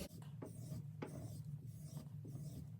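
An axe blade is drawn back and forth over a leather strop glued to a wooden board and coated with grit compound, giving steady rasping rubs in several repeated strokes, close and alone.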